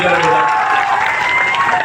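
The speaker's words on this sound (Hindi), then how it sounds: "एक बार जोरदार ताली" A large crowd at a political rally applauds loudly, sustained clapping with a little cheering mixed in and a voice carrying over the top throughout.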